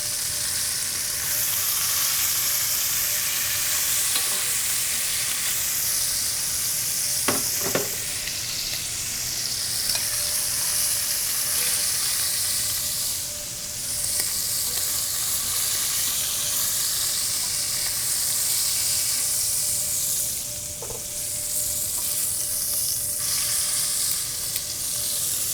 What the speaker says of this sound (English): Creating a depth of flavor by browning off your meats